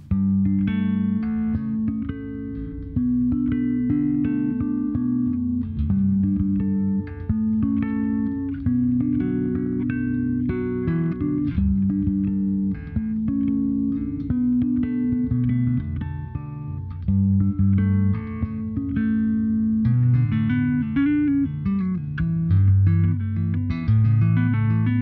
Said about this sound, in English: Schecter bass, Darkglass pedal, distortion on.